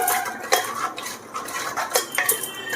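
Cream being mixed into a dish in a pot, with a spoon scraping and clinking against the metal in repeated close strokes over a soft cooking hiss, no speech.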